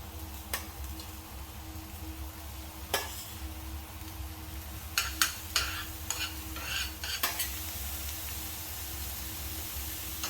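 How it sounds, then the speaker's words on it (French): Wild asparagus sweats gently in warm olive oil in a pan with a faint, steady hiss, dotted with a few sharp clinks and light scraping from stirring; no voices. "Dans cette huile, on va faire suer toutes nos asperges."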